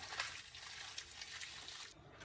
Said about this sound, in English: Just gonna pour the hot water on.